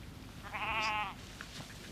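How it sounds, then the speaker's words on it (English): A single Wicklow Cheviot sheep, a medium-wooled breed of bleak hill country, gives one wavering bleat of about half a second, moderately close, over a low steady background rumble. "The Wicklow Cheviot is a medium-wooled sheep, thriving on moderately bleak terrain."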